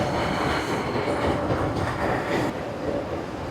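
A double-decker train rolls into a station in Bangalore, producing a steady, loud rumbling roar of wheels and carriages that continues unbroken throughout, with no talking.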